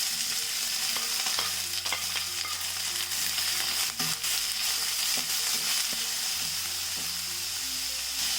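Chopped onion, carrot and green chillies sauté in hot oil in a pan, a constant close sizzle with periodic scraping and clinks of a spoon as the vegetables are stirred. No talking.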